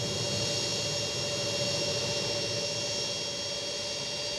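A TorqueSim CitationJet 525 jet engine in the X-Plane flight simulator, heard from outside the aircraft: a steady, loud whine with a sustained tone over broadband roar, unchanging throughout.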